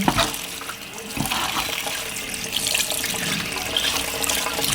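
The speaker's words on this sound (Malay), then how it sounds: "Kena basuh dulu lah sebab dia ada Sugar" Used coffee grounds being rinsed under running water to wash out the sugar, a steady splashing tap stream heard up close with no speech.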